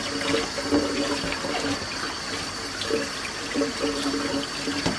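Tap water runs steadily into a sink as freshly cleaned flathead fish are rinsed, a continuous close splashing wash with brief brighter gurgles and no talk over it.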